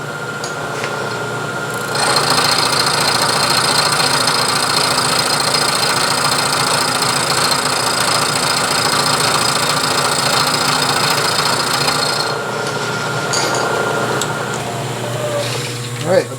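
A milling machine cuts a slot in a steel carriage stop body, giving a steady, loud, continuous whine and hum for about ten seconds before the cut winds down to a quieter motor drone.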